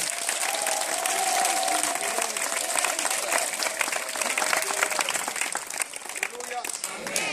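A church congregation at a deliverance service bursts into loud sustained applause and cheering, dense clapping filling the hall with voices mixed in throughout.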